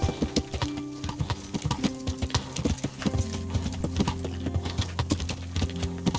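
Horse hooves clip-clop steadily in a video game, a rhythmic run of close, distinct hoofbeats over a constant low musical drone.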